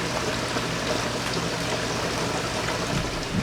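Water poured into the bottom tray of a seedling tray holding pepper seeds, a steady rushing splash that runs loud and unbroken from start to finish, with no talking.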